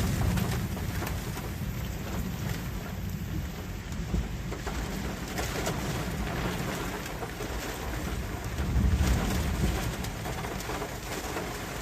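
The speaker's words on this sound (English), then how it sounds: "the wind is starting to tame out a bit now" Strong wind roars steadily through a thunderstorm with hail near Chester, Virginia, a dense broadband rush mixed with heavy rain, swelling louder around the ninth second, with no voices.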